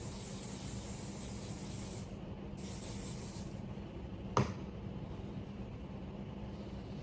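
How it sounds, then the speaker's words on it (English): Sebastian Shaper Plus hairspray misted onto the part of a sleek straight wig, a steady soft hiss running through, with a brief sharp burst near the end. "All I'm gonna use is my Sebastian Shaper Plus hairspray on the part."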